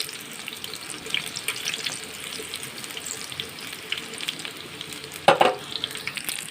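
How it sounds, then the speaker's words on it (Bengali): Small Bengali shrimp pakoras deep frying in hot oil, a steady bubbling sizzle throughout with a brief louder burst of crackle near the end, no voices. "এবার পকোড়াগুলোকে আমি ভালো করে উল্টে পাল্টে লাল লাল করে ভেজে নেব।"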